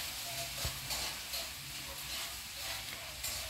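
Fish gills frying in hot oil give a steady, fairly loud hiss and sizzle across the whole stretch, with a few brief pops and faint background noises.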